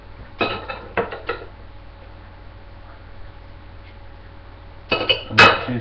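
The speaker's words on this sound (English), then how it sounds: "I'm going to butter this bread" A knife scrapes and clinks against bread and a plate while butter is spread, with a short burst of scraping strokes, a quiet pause, then another cluster of clinks and scrapes up close.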